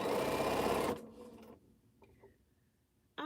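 A sewing machine runs fast stitching a scrap quilt, a loud close whirring buzz for about a second before stopping abruptly, followed by quiet handling noises and a brief restart at the end.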